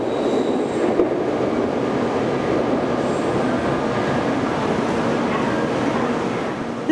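A Shinkansen bullet train pulls out of a Tokyo platform, a steady loud rumble and hiss of wheels and motors sustained for several seconds, with no speech.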